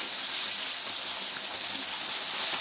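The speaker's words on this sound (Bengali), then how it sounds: "এ পর্যায়ে মিডিয়াম আঁচে আমি মাছটাকে খুব ভালোভাবে লালচে লালচে করে ভেজে নেব।" Tengra fish frying in oil over medium heat, a steady broadband sizzle and hiss that holds at an even level throughout with no talk.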